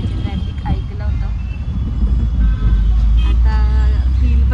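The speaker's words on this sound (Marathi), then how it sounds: "खूप ट्रॅफिक आहे" Heavy road traffic in Mumbai, a dense low rumble of cars and buses close by with a faint beep, under people talking.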